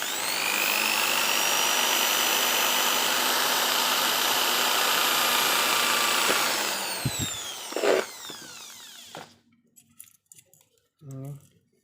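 A power drill bores holes one at a time into PE material, a loud steady whine running for about six seconds before cutting off, followed by clatter and someone speaking.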